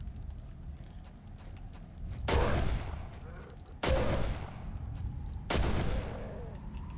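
Three loud, well-spaced gunshots in Condemned: Criminal Origins, each a sharp crack with a ringing decay, over a low background hum.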